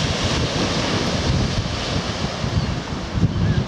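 Surf washes onto a stony beach at a southern seaside resort near Seaford, a dense, loud, continuous rush of breaking water mixed with wind buffeting the microphone, no voices.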